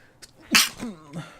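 A single sharp sneeze, close and loud, with small breathy sounds just before and a short voiced trail after.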